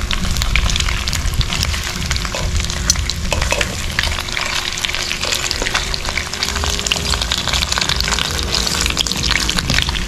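Pork cooking in its own rendered fat with no added oil, a steady dense sizzle and crackle with spitting pops throughout, close and continuous.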